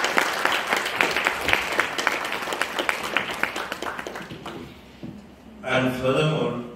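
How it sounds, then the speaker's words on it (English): Audience applause at a book release event for The Corona Diaries, honouring Gayatri: scattered, moderately loud clapping that thins and fades out, followed by a brief burst of other sound near the end. "clap for Gayatri, not for me"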